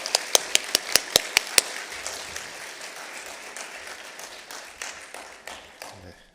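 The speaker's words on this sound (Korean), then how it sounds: "크게 한번 박수해 주시면 힘이 될 줄로 믿습니다." A church congregation applauds, starting with a few sharp, loud claps that blend into a steady wash of clapping which gradually fades.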